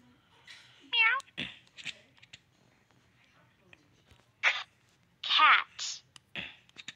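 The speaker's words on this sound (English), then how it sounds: "Cat." A cartoon cat gives several distinct meows, some short and some drawn out and wavering, separated by quiet gaps with faint background sounds in an alphabet learning program.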